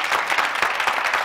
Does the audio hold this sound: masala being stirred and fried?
no